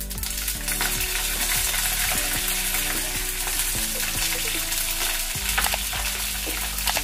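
Green chilies frying in a hot tempering of cumin and mustard seeds, a steady dense sizzle with crackling pops and a low hum running throughout, close and loud with no talking.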